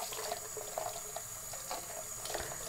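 Hot water runs from a tap into a sink to wet a sponge during an evening skincare routine, a steady moderate splashing flow with small irregular spatters, no voices.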